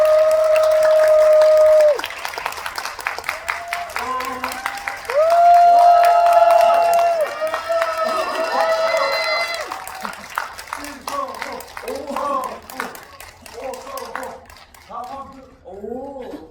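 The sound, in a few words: audience applause welcoming directors and actors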